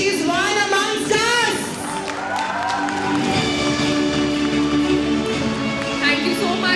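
Audience applause at the Pehchaan Awards ceremony, a steady wash of clapping and light cheering carried under a voice speaking over it, with background music running throughout.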